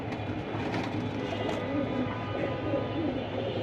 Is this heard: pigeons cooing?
yes